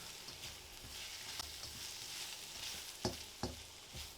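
Carrots, celery and green pepper stir-fried in a hot wok for kung pao chicken, giving a steady close sizzle with a few sharp scraping knocks of stirring near the end.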